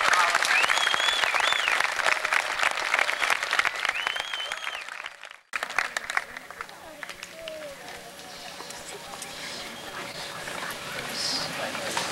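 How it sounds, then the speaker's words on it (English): Audience at an 8th grade graduation ceremony claps in a sustained, dense round of applause that stops abruptly midway, then fainter scattered clapping and crowd noise continue. "join me in giving them a nice round of applause for all that they do for all of us"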